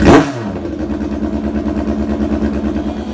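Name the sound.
1976 Kawasaki KZ900 drag bike engine running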